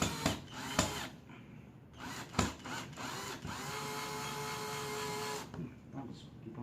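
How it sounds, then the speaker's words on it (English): A power drill whirs in a steady sustained run during a repair of a Kia rear power window switch, with shorter taps and clicks around it and a person talking nearby. "Let's do the drill easier."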